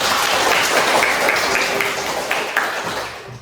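Applause from a group, a dense patter of hand claps that holds steady and then tapers off toward the end.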